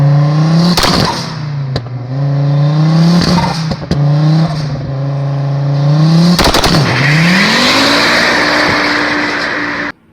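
A car engine revs hard and loudly, climbing in pitch several times with brief drops between pulls before settling into a long sustained high-rpm note that cuts off abruptly.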